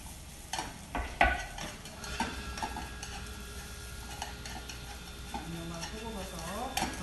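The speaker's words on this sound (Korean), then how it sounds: "이제 버섯을 넣어서 볶겠습니다" Mushrooms stir-fried in a pan for japchae, with a steady soft sizzle, scattered scraping and clinking of a utensil against the pan, and a few louder knocks early on; a voice murmurs faintly near the end.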